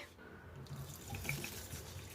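Moong dal is rinsed in a bowl of water with faint, quiet sloshing and splashing, and a few small water sounds, without any talking.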